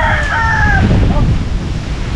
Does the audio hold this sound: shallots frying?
no